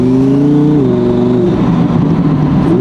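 A 2017 Audi R8 V10 Plus fitted with an 850 hp turbo package revs loudly and close, its V10 engine rising in a steady harmonic drone, then dipping and surging again with a rougher, pulsing turbo-tinged tone.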